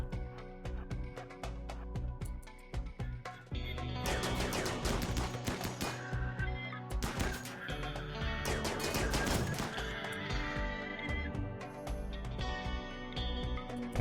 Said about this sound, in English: There's another one just shooting from over there.